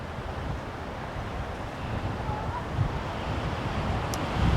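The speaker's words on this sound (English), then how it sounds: "The wind stopped this direction. Now it's coming this direction, but not bad." Wind blowing outdoors on a mountain overlook during a fishing and camping trip, a steady broadband rush buffeting the microphone throughout with slight gusts toward the end.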